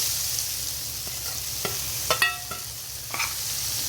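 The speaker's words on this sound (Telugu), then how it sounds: "ఇప్పుడు మనం ఆనపకాయ ముక్కలు వేసుకోవాలండి" Bottle gourd pieces go into a hot pan for pachadi, giving a steady low sizzle with a few sharp stirring clicks and scrapes near the middle, close and fairly quiet, with no talking.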